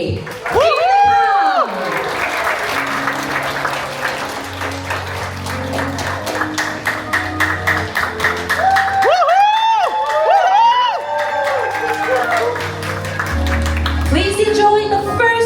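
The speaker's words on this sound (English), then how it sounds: "Please give your biggest cheering and wild applause to welcome a bride and groom" Wedding guests at a banquet cheering, whooping and clapping as the bride and groom enter, loud and sustained over music, with excited shouts and high voices rising in bursts.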